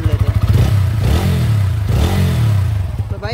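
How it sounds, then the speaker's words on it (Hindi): A TVS Apache RTR 160 V4 motorcycle engine is blipped up from idle twice, each rev rising sharply and falling back to a lumpy, putting idle, heard close and loud with no talk over it. "इंजन से भी एक बार साउंड हम लोग सुन लेते हैं"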